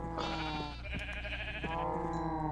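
Sheep in the Minecraft video game bleat in several short, wavering calls over steady in-game background sound.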